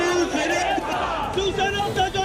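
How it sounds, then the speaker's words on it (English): Shiv Sena supporters cheer and chant slogans for Uddhav Thackeray, a loud, dense crowd of voices filling the air continuously with rising shouts, close and unbroken throughout. "what you hear are Shiv Senics cheering, sloganeering in support of Uddhav Thackeray"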